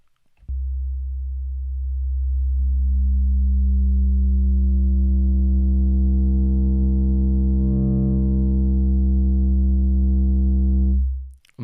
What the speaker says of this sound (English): add some saturation or distortion in there